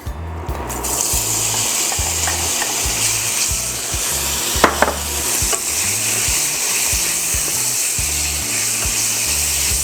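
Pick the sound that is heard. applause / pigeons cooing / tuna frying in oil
tuna frying in oil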